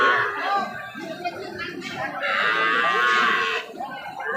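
Cattle low repeatedly at a busy cattle market in Joypurhat, Bangladesh, a long drawn-out moo rising clearly midway over a murmur of background voices and crowd noise.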